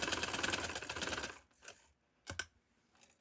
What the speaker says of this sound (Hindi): अब आगे किनारे में भी मैं लगा देती हूँ सिलाई, ज़रा खूबसूरत हो जाएगा, पक्का हो जाएगा